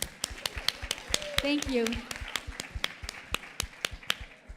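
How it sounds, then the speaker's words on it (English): A small group claps in a loose, uneven rhythm of sharp, separate slaps that run through the whole stretch, with a voice speaking briefly over them near the middle. "big clap, big clap"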